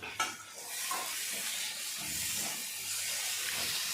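Steady, loud sizzling and frying hiss as curry leaves go into a potato curry cooking in a pan for masala dosa filling, with a few soft stirring scrapes and no talking.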